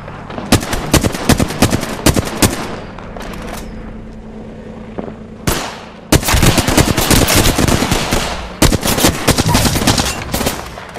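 Automatic weapon fire in the battle royale game Apex Legends, with loud, dense bursts of rapid shots coming in several long volleys separated by brief lulls.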